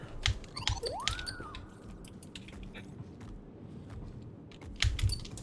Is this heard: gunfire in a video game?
no